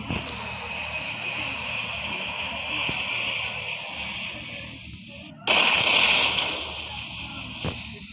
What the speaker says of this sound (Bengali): উপরে প্লেন উড়াউড়ি করছে